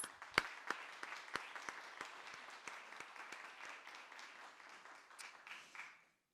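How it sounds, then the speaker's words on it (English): An audience at a startup bootcamp closing ceremony breaks into applause for the founders, a crowd's clapping that starts with a few sharp claps, holds steady, then tapers and stops abruptly near the end. "Join me in giving them a big round of applause"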